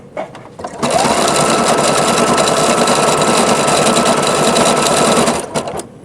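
A Juki HZL-F300 and Singer XL-550 sewing machine stitch metallic thread, a loud, steady, fast mechanical whirr that starts after a brief moment, runs continuously for several seconds, then stops, close up with no talking.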